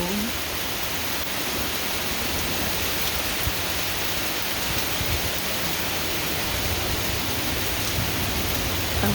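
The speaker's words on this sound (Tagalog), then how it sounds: "Rain, rain." Downpour in a forest, a broad constant roar of rain hitting foliage and ground, unbroken for the whole stretch and fairly loud, with no one speaking.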